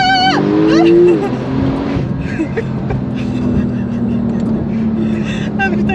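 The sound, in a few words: sports car launch control engine revving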